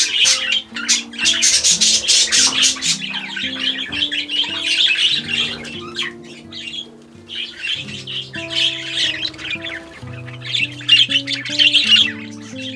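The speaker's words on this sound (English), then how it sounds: "it really feels overcrowded with budgies" Budgies in an overcrowded aviary squawk and chirp nonstop, a loud, dense chorus of overlapping shrill calls close by, with no talking.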